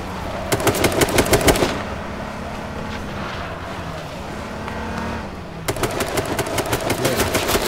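Bursts of automatic gunfire in the H1Z1 King of the Kill game: two rapid volleys, one near the start and one near the end, with a vehicle-like engine drone running underneath in the quieter middle.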